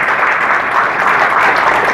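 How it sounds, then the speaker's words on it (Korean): Loud, dense audience applause fills an opening ceremony of a hotel art fair at a hotel in Songdo, Incheon, welcoming a speaker to the stage, sustained and even for the whole moment with no voices over it. "여러분 큰 박수로 환영해 주시기 바랍니다."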